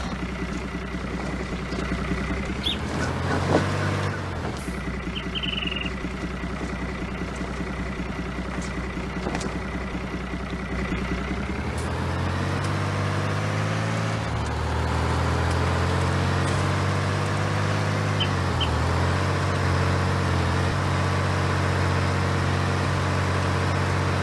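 A tractor engine runs steadily in Farming Simulator 19, a loud continuous mechanical drone that shifts in pitch and load around the middle, with faint clicks over it and no talk.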